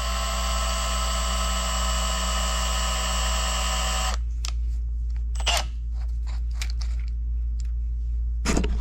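A power drill whirs steadily with a high whine for several seconds, twisting baling wire, then stops, followed by scattered clicks, rustles and light metallic handling sounds.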